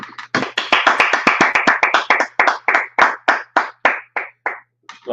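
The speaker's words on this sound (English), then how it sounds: "Let's clap it up." Group of people clap hands together in quick, sharp unison bursts during a scripture and law class in Harlem, New York, forming a brisk rhythmic pattern with brief pauses between runs.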